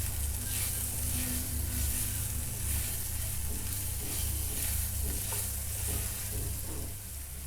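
Spices with salt, turmeric and garam masala sizzle steadily in hot oil while being stirred, a continuous close frying hiss with soft scraping strokes throughout, no voices.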